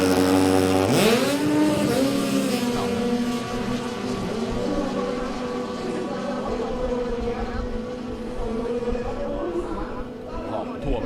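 Jet skis roar off the start line of a Jet Ski Pro Tour race at Sap Pradu reservoir, engines rising sharply in pitch together, then holding a loud layered whine as they race away while a commentator talks over them.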